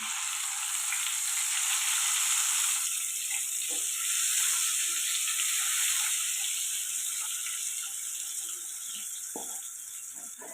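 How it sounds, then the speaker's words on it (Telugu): Eggs frying in oil with turmeric in a kadai, a steady hiss of sizzling that eases slightly toward the end, with a few faint clicks of utensils. "ఎగ్స్ అయితే ఫ్రై చేసుకున్నాను"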